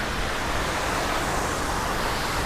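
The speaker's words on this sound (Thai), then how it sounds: "เดี๋ยวขอชม น้ำตกก่อนนะ" A waterfall at a Thai outdoor attraction, a dense, continuous broadband rush of falling water that stays steady and fairly loud the whole time, with no talk over it.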